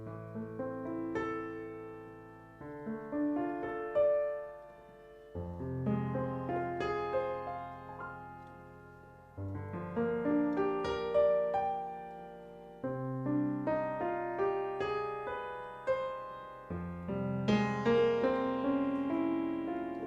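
Piano plays a slow passage in a minor key, with sustained chords and melody notes phrased in several sections, moderately quiet and alone.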